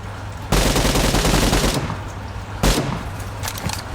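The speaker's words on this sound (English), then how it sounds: "So now, ASM Abacan, same story. You put a compensator and you test." ASM Abakan assault rifle fitted with a compensator firing in PUBG: a loud sustained burst of rapid automatic gunfire for about a second, then a second short burst, with no talking.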